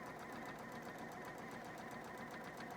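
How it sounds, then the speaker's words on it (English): Sewing machine stitching straight through layers of quilt fabric, a steady rapid needle chatter running continuously at even volume throughout. "We're just going to sew all the way through."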